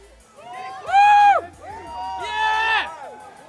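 A crowd at the UFC 244 press conference in New York cheers and whoops in two loud swells of shouting voices, close and boisterous, each rising and then easing off.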